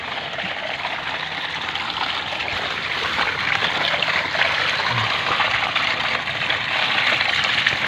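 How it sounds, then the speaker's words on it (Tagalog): Water drains out of a concrete fish pond in a steady rushing trickle and gush, continuous and fairly close, with slight swells in level and no talking. "Drain natin ng konti."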